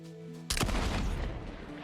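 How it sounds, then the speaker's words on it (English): A single loud gunshot in Borderlands 3 cracks in over a soft tonal game ambience, then rings out in a short echoing tail. "That was a gunshot."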